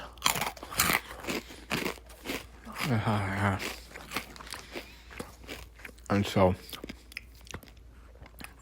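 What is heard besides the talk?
chewing and crunching food with mouth full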